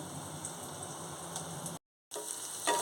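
Faint, steady sizzling of a tempering with coconut powder frying in oil in a pan, with a brief cut to silence before the crackle resumes.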